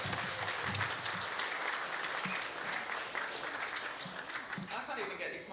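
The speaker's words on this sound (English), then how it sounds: "Let's just give a round of applause for everyone because we made it here" An audience at a regional sports awards night applauds steadily in a hall, dense clapping sustained throughout, with scattered voices and cheers underneath.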